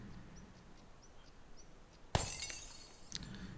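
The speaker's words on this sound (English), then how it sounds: "You hear smashing from a room near you." Glass smashes in a nearby room in a video game, a single sharp loud crash followed by a tinkling shatter and scattered debris after near silence.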